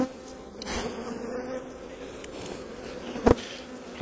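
A honeybee colony in an opened hive drones with a steady, close buzz throughout, individual bees flitting near and a brief knock partway through.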